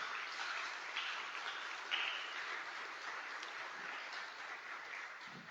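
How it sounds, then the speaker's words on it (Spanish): A church congregation claps steadily for several seconds, a dense, moderately distant wash of applause without pauses. "Denle un gran aplauso al Señor."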